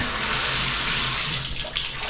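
Hotel shower running with strong water pressure in an oceanfront resort room in Myrtle Beach, a steady loud hiss of spraying water, close and continuous with no talking.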